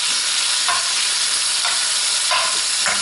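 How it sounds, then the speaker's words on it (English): Beef and broccoli stir fry sizzles in an old electric fry pan while being stirred, a constant close hiss with a few soft scraping strokes of the utensil, no voices. "stir that right up"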